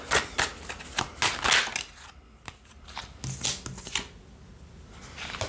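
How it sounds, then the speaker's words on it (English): Tarot cards being reshuffled by hand, a run of quick riffling flutters and soft slaps close by, pausing briefly midway before more shuffling bursts resume. "I'm just going to reshuffle those."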